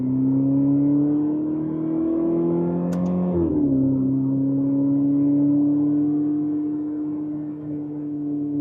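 Ferrari 488 GTB with its twin-turbo V8 pulls hard from close range, a steady rising drone that briefly dips in pitch as it shifts around three seconds, then keeps climbing, with no talking.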